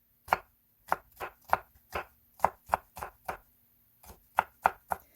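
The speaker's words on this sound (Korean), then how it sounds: "파프리카 준비해서 심지 빼주고 얇게 채선 다음에 잘게 다져주면 됩니다" A knife finely minces thinly sliced bell pepper on a cutting board, a close series of about fifteen crisp, evenly spaced chops in two quick runs separated by a short pause.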